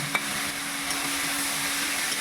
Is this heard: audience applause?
no